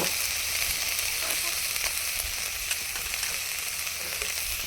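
Ginger, garlic and cumin pastes with ground turmeric sizzle steadily in plenty of hot oil, a constant close frying hiss with faint scattered pops and no talk.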